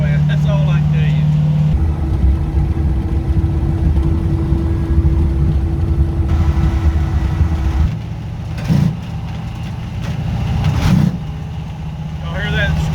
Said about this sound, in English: That's the drive shaft hitting the floorboard.